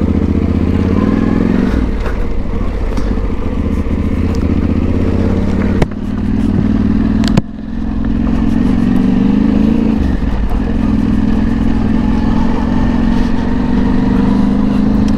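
Motorcycle ridden through a Russian village on Mitas 07 Dakar tires, its engine droning steadily and close for the whole stretch, with brief dips and clatter midway.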